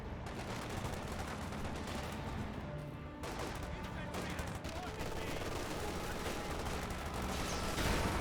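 Continuous battle noise from Company of Heroes 2, dense gunfire and heavy anti-tank Panzerfaust shots, loud and layered across the whole stretch with bursts of impacts and rumble, a voice talking faintly underneath.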